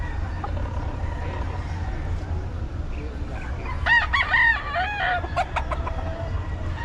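Roosters crow and chickens cluck at a busy Bocaue market, several harmonic crows stacking up in the second half over a steady low rumble of crowd noise.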